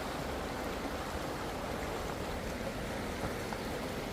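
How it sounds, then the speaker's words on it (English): Clear creek water flowing at the confluence of Cayoosh Creek and the muddy Fraser River in British Columbia, a steady broadband rushing wash with no breaks and no voices. "Over here you have the crystal clear water of the Cayosh Creek."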